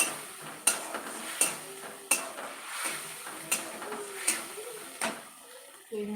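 Spice paste frying in a pan on a low flame while being stirred, with a regular series of metallic spoon knocks and scrapes over a soft sizzle and a voice talking.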